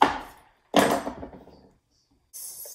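Two firm, close chopping strikes of a knife cutting through a green papaya in the middle, each a dull woody thud with a brief tail, followed by a soft scrape.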